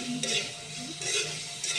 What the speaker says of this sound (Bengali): এটা দিয়ে আবারও আমি একটু নেড়ে চেড়ে নিচ্ছি